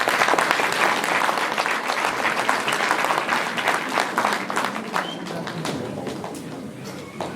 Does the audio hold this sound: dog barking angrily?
no